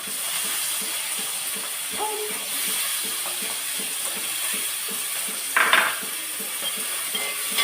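Chopped shallots sizzling steadily in hot oil as they fry, with stirring scrapes and a brief louder clink partway through.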